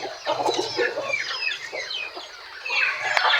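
An older purebred male turkey on a farm gives rapid, close clucking calls in a continuous burst over a low, pulsing background hum.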